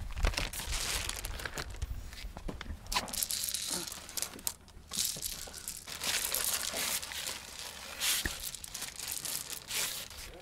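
A plastic bag is crumpled and crinkled by hand, close and continuous, with sharp rustling bursts and a brief lull midway, outdoors in a garden.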